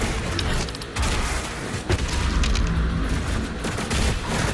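Dense, continuous gunfire and booming blasts fill a Doom Eternal firefight, loud and chaotic with overlapping shots and explosions and no pause throughout.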